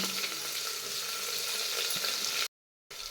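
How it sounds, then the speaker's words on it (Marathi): Chopped onion hitting hot oil with cumin seeds, a steady close sizzle that holds loud for over two seconds, cuts to silence briefly, then resumes. "तेल चांगलं गरम झालं की जिरं घालायचं जिरं चांगलं फुललं ही भरपूर चिरलेला कांदा घालायचा"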